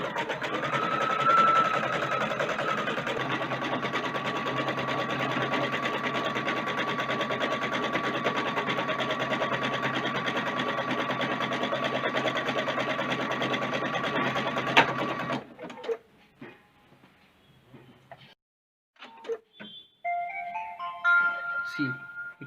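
A Husqvarna Viking Designer Brilliance 80 embroidery machine stitches with a continuous, even mechanical hum for about fifteen seconds, then stops, followed by a few quiet clicks and a short electronic chime.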